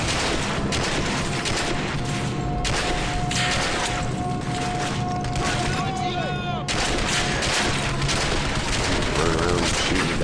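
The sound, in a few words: gunfire in video game Turning Point: Fall of Liberty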